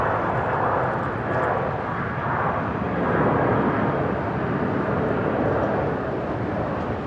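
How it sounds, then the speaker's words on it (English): A Jetstar Airbus A320 at Brisbane airport passes with a steady, loud roar of jet engines in a takeoff blast, a broad sustained rumble that swells slightly and holds throughout without voices. "We're about to get the Jetstar 320 blast pass"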